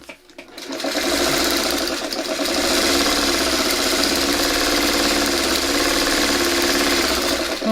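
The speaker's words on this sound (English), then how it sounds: "Okay, now all the sewing is done." A sewing machine runs steadily, stitching fabric with a continuous close mechanical whir and rapid needle rhythm that starts after a brief pause and holds for about seven seconds, alone without talk.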